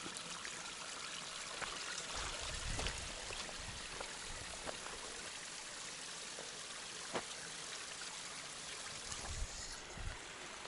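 A seasonal stream on a Pacific Crest Trail hike near mile 552 trickles and burbles in a soft, continuous wash, quiet and close, with occasional small splashes and no talking.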